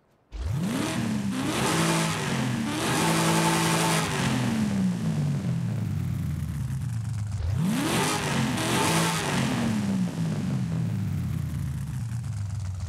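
A 1996 Chevy Impala with a street intake in Forza Horizon 5 revs hard twice, each sharp climb then falling back to a steady loud drone, close and continuous with no talk.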